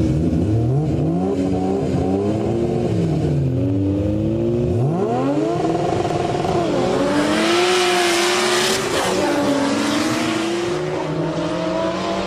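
A Toyota Starlet EP82 fitted with a K26 turbo kit races in a street drag. Its engine screams loud and close, climbing through several rising revs with gear-change drops between them, while another car's engine runs alongside.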